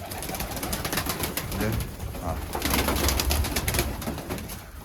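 Pigeons coo steadily in a rooftop loft of Iraqi pigeons, with someone talking close by over the birds and occasional wing flutters.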